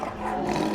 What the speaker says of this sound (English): Bear roars and he rumbles.